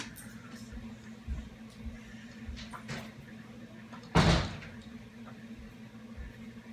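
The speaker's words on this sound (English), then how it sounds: "Hold on a second, I gotta close this door." An indoor door is pushed shut with a single soft thud about two thirds of the way through, otherwise only quiet room tone and faint small movements.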